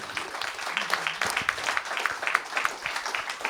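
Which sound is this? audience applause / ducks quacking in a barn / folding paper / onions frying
audience applause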